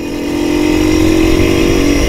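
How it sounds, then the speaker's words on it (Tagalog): Motorcycles near the Magallanes bridge in Butuan give a loud, steady engine drone that holds evenly without breaks, close by and with no voices. "Kaya pala may mga motor dito."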